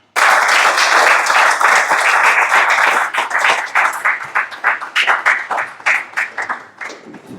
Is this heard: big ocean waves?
no